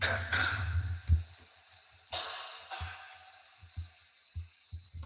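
Crickets chirping in steady repeated pulses, a classic quiet night chorus, with a few low thumps underneath.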